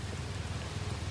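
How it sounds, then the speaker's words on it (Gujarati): Heavy rain pours down steadily outdoors, a dense, even hiss of falling water that is moderately faint and uninterrupted, with no voices. "વરસાદ બહુ ફાસ્ટ છે આજે"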